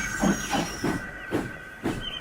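Rhythmic puffs of steam hiss in a steady chuffing beat, about five bursts over a couple of seconds, close and clear with no talking.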